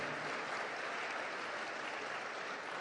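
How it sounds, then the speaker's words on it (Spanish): An audience at a church anniversary celebration breaks into continuous applause, a dense and even crowd of clapping hands heard from a distance and lasting for the whole short stretch without fading. "Dese a ustedes mismos un aplauso."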